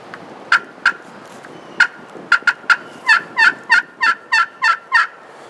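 Crystal over glass double-sided turkey call worked by hand to imitate hens: sharp isolated yelps at first, then a quick rhythmic run of about ten clucking yelps, loud and close.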